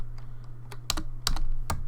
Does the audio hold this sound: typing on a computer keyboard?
yes